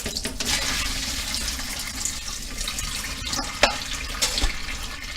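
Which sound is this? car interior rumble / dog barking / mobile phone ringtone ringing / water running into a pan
water running into a pan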